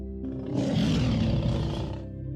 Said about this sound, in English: With a deep roar that echoes through the wild, he asserts his dominance over the land.